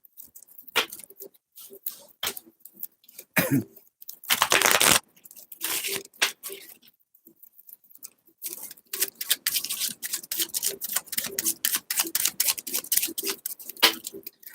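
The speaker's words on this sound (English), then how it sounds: "Let's just shuffle." Tarot cards being shuffled by hand during a live card reading, a run of quick crisp riffling and slapping bursts, close and fairly loud, with brief pauses between bursts and no talk over them.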